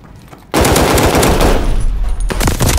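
Rapid automatic gunfire erupts at a contested hardpoint in a multiplayer shooter game, loud sustained bursts starting abruptly after a quiet half second, briefly pausing, then resuming.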